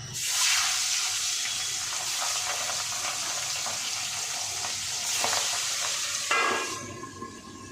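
Steady, loud sizzling of fish frying in hot mustard oil, a dense crackling hiss that swells and bursts in places, with no voices.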